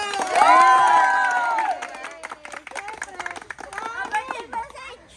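Excited crowd clapping and cheering erupts after a voice, with scattered rhythmic claps and shouts continuing over babble.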